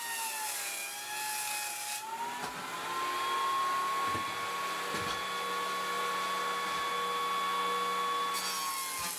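A thickness planer feeds 2x4 boards, producing a continuous loud droning whine with a rough cutting roar. Brief thumps and shifts in the hum mark boards entering and leaving the machine. Nobody speaks.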